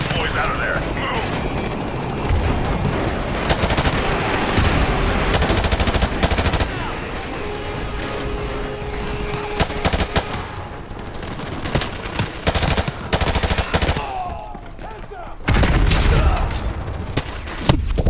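Dense gunfire from a Call of Duty: Modern Warfare Remastered battle, with continuous automatic bursts, loud booms and chaotic combat noise filling the scene while soldiers shout over it.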